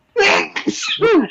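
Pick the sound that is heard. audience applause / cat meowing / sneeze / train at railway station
sneeze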